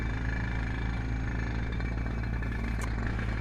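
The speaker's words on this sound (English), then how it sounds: "you can hear that equipment firing up in the background" Construction equipment runs in the background of a construction site, a steady low engine drone and clatter at a moderate distance with no talking.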